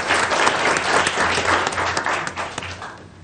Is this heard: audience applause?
yes